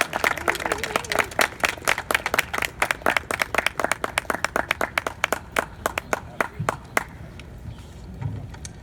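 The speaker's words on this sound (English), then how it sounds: "Please give a warm round of applause for Dr." Audience applause at a March for Science rally in Madison, dense, loud clapping from a crowd that thins out and fades to a few scattered claps near the end.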